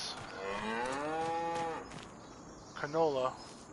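Cattle in the Farming Simulator 25 video game give one long, drawn-out moo followed by a shorter, louder moo. Both sound close, with no talk over them.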